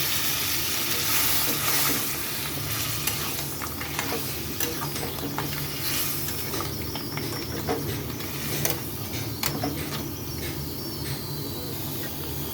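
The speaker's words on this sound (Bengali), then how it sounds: "তো এখানে আমি পরিমাণ মতন জল দিয়ে দিচ্ছি" Water poured into spicy crab masala, kekra kosha, cooking in a hot pan, producing a dense continuous sizzle and bubbling with scattered crackles and stirring clatter, close and steady throughout, with no voices.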